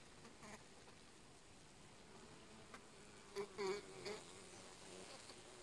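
Honeybees buzz inside an opened hive during a winter inspection, a faint steady hum with a few louder buzzing swells near the end.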